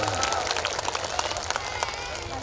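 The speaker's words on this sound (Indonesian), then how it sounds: "Tepuk tangan Pak" Crowd clapping and cheering at an outdoor political rally in Indramayu, a broad wash of applause with scattered claps, moderately loud and mixed with voices.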